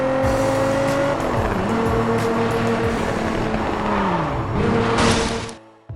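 Racing cars in the street-racing video game Gear.Club, loud engines revving through gear changes with tire squeal, continuous and close, tapering off abruptly at the end.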